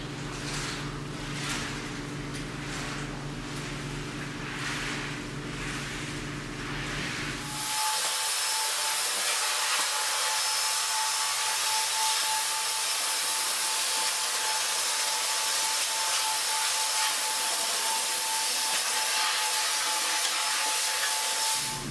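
A wet vac picks up cleaning solution from a restroom tile floor. The first few seconds carry a lower, rougher machine rumble, then a loud, steady high-pitched suction roar holds evenly for the rest of the clip.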